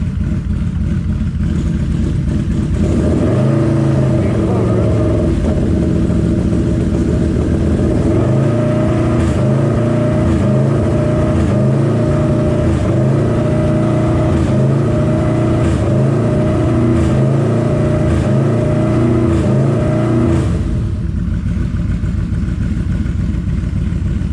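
Yamaha V-Max motorcycle with an air shifter setup idling loudly up close, its engine rumble building into a strong throbbing beat with rhythmic pulses for most of the run before easing back down, no voices.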